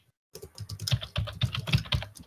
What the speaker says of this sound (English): Why do we all abuse our keyboards here?